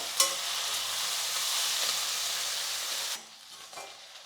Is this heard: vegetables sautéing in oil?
yes